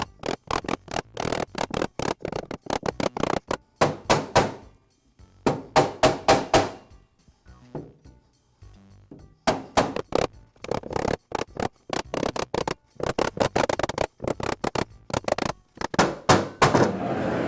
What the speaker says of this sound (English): A rubber mallet can be useful to tap the cutter head away from the posts.